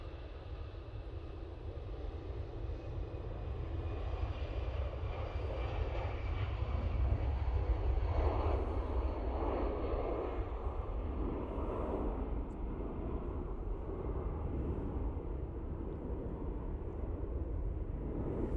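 An EasyJet airliner rolls down the runway for takeoff at Manchester Airport, bound for Lisbon: a steady, distant jet engine roar with broad rumble that swells slightly mid-way and holds throughout, with no talk over it.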